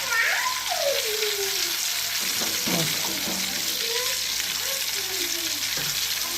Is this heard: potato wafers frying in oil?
yes